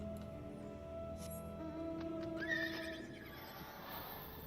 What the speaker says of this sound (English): You guys like my horse? It's like a weird dragon horse.